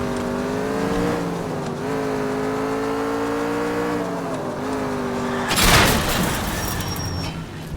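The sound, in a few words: car driving in the video game L.A. Noire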